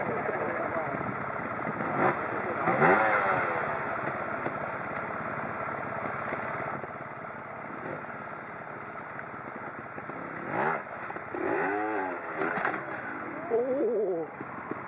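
Auto race motorcycle engine running during practice at Shorenji Autoland, a loud, raw buzzing drone that rises and falls with revving sweeps, close by, with people talking over it at times.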